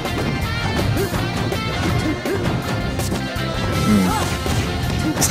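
Super Smash Bros forward smash attacks, Sheik against Ganondorf, land as repeated loud crashing whacks over a constant busy game and crowd din.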